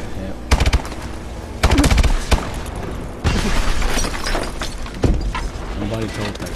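Gunfire in the video game Call of Duty Exo Survival: loud, rapid machine-gun bursts and single cracks in quick clusters, with shattering impacts mixed in and game voices talking underneath.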